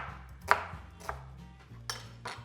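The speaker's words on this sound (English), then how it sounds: "I've got a medium-sized onion here. Just want to slice it." A knife slicing through a medium-sized onion on a board, giving about four separate crisp cuts with brief pauses between them, close and fairly quiet over a low background hum.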